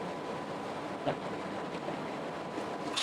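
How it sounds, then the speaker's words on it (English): A rotary roughing vacuum pump runs in a thermal evaporation system, making a steady, even, noisy drone that continues unbroken throughout with no talking. "Now this is the sound of rotary pump or the roughing pump"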